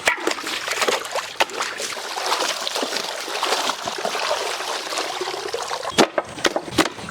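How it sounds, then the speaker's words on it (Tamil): Mutton pieces being washed in water for Ambur biryani, close wet splashing and trickling with irregular sloshes and a few sharp knocks of meat or vessel near the end. "மட்டனை நல்லா கழுவி எடுத்துக்கலாம்."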